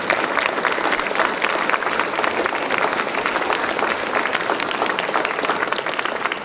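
Steady, dense clapping from a storytelling audience for a featured teller, loud and continuous throughout with no voices over it.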